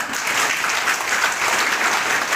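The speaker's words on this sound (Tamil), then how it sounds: "கைத்தட்டுங்க" Steady applause from an audience at an education loan distribution camp in Dharmapuri, led by the district collector, a dense, even clapping that stays loud and continuous throughout with no talk over it.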